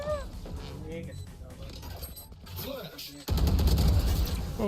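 Gunfire from the tactical shooter Valorant: a busy burst of in-game shots and mechanical clatter, growing louder and denser toward the end, mixed under ongoing excited talk.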